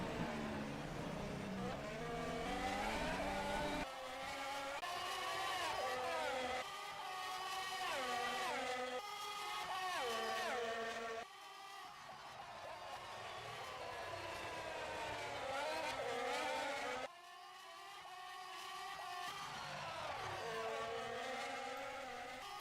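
Formula 1 race cars in the rFactor 2 game scream around the Monaco circuit, high-pitched engines rising and falling through repeated gear shifts, one car close and loud throughout.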